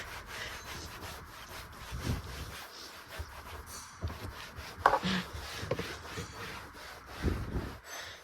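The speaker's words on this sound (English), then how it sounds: "So I'm polishing this area here so it's clean for the driver." A cloth rubs and polishes the dashboard of a Scania eight-wheeler truck cab. Soft, irregular scrubbing strokes come close and quiet, with a few louder swipes and no talking.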